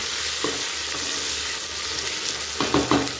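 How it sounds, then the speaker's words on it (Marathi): Onions and tomatoes frying in a pan for rasam rice: a continuous close sizzle, joined near the end by a few louder scraping stir strokes, with no talk. "तर कांदा वगैरे ते फ्राय होतोय"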